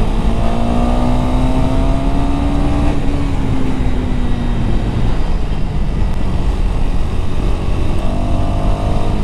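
A rented KTM Duke 390 motorcycle with bald tyres rides near the Atal Tunnel at Rohtang, its engine holding a steady, rising and falling drone under constant wind and road roar.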